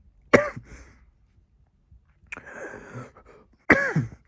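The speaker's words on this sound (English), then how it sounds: "I got this dry ass cough" Three short, harsh, dry coughs from one person in a quiet room, each an abrupt isolated burst, the middle one trailing into a raspy throat-clearing.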